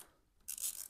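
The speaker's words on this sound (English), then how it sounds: "I'm going to take these two 8mm bolts loose" A wrench loosens an 8mm bolt on the valve cover of a 2023 Lifan KPM 200cc motorcycle: a quiet pause, then a close, bright rasping burst of ratcheting that lasts about half a second.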